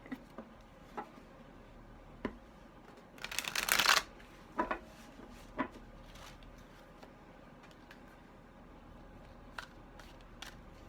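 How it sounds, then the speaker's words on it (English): A deck of tarot cards is shuffled close up, with one brief riffling burst and scattered soft taps and card clicks before and after, quiet overall. "As always, I shuffle until I feel that inclination to"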